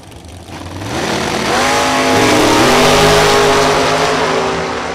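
Drag racing cars, including a Camaro, launch and accelerate down the strip at a dragway, a loud engine roar that rises in pitch through the gears and swells over several seconds.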